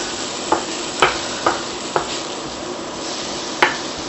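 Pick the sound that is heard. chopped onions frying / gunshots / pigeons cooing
chopped onions frying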